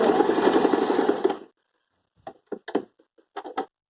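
A sewing machine with a button-sewing presser foot runs a fast, steady whirring stitch to tack a button in place, then stops, followed by a few soft clicks and handling knocks.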